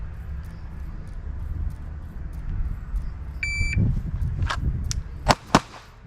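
A short electronic shot timer beep followed by sharp pistol shots fired from the hip, including two loud cracks close together near the end.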